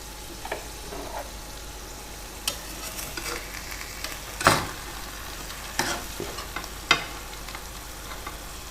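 Afghani omelette of eggs layered over potatoes and tomatoes cooks in a pan with a soft, steady sizzle, punctuated by a few sharp scrapes and taps of a utensil against the pan, with no talking.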